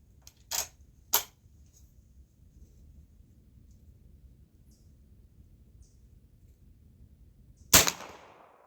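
A .45 Long Colt lever-action rifle fires at an outdoor silhouette range: two sharp distant cracks early on, a long quiet stretch, then one louder close shot with a short echoing tail.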